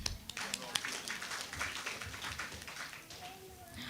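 Audience applause at an ophthalmology association conference, a dense, steady patter of many hands clapping from a fairly distant crowd, with voices murmuring underneath throughout.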